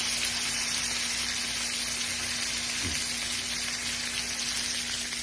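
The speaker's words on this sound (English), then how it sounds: "We've got some ghee, which is clarified butter, and we put it there and press it down so that we get a nice sear on the skin" Sea bass fillet searing skin-down in hot ghee, a steady close sizzle and crackle holding even throughout, with a faint low hum underneath and no voices.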